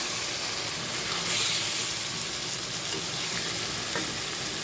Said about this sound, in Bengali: টমেটো দিয়ে আমি আরও কিছুক্ষণ কষিয়ে নিব।